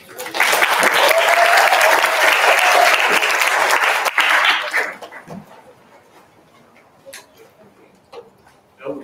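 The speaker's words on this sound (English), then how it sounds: "So please give him a round of applause." A large audience at a university welcoming-day orientation claps loudly in a dense, sustained burst for about five seconds, then it fades to a few scattered claps and quiet room noise.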